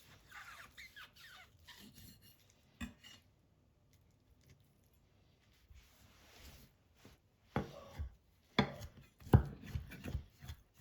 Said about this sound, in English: I'm also going to be chopping up some pieces for some delicious pork wraps.